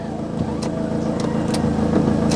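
A cheap used car's engine running after being started, a loud, steady close idle with faint rhythmic pulsing and a few brief clicks over it.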